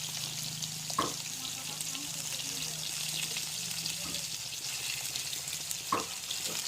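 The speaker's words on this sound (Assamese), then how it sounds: "চাওক আমাৰ মাছ আৰু আলু ফ্ৰাই হৈ গ'ল" Magur fish and potatoes fry together in a pan, a steady bright sizzle running throughout with a couple of soft clinks from stirring, fairly close.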